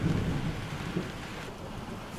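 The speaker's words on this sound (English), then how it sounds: "Yeah, finally started to rain, as you can see." Rain falls steadily during a thunderstorm by Inari Lake in Finland, a close, even hiss of drops hitting surfaces with no voices.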